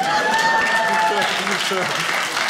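Brief burst of clapping from a group, mixed with voices and some singing or cheering over it.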